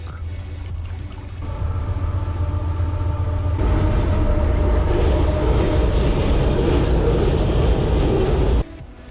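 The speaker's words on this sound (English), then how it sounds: "Well, that was a noisy train." A loud train rumbles past close by a city creek, a steady heavy roar with rattling and a high whine, swelling after a few seconds and cutting off near the end.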